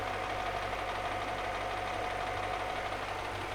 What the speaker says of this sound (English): The engine is ticking over nice and smooth now with no running issues and wobbles.